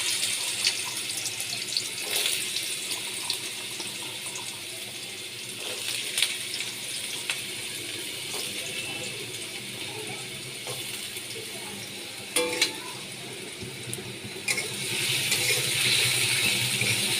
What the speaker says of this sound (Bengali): আলুগুলো আমি দিয়ে দিলাম গরম হয়ে গেছে তেল